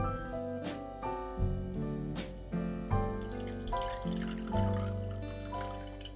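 Liquid drained from salted cabbage pours and trickles into a bowl, with a few splashy bursts over steady tonal music in the background.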